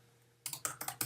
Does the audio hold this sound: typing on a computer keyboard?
yes